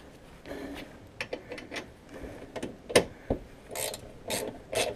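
Ratchet wrench tightening bolts while a winch is installed on a 2015 Honda TRX420 Rancher ATV: a series of uneven clicking and ratcheting bursts with brief metallic knocks, close by and moderately loud, with no talking.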